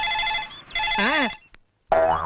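An electronic telephone ringtone trills loudly in a warbling melodic pattern, stops briefly after a click, then starts ringing again.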